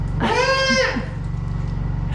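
A person imitating bird calls gives one short, wavering bleat, like a young goat, close to the microphone, then only a low hum remains.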